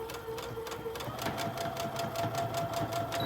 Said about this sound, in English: So when you get to the strap, go ahead and sew over it